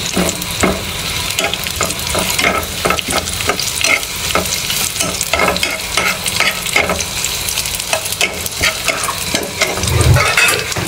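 Dried chili frying in hot oil for letka vegetable khichuri: a loud, dense crackling sizzle, close up and continuous, punctuated by rhythmic scrapes of a spatula stirring around the pan, with no talking.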